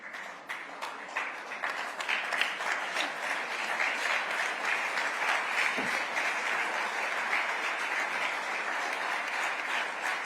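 Sustained standing ovation from a large awards-ceremony audience for the Chandrayaan-3 project director, dense steady clapping filling the hall for about ten seconds without letting up.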